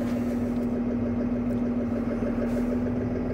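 A Fendt 930 Vario tractor, long unused, idles steadily with a low, constant engine hum and a firm droning tone, heard alone without speech.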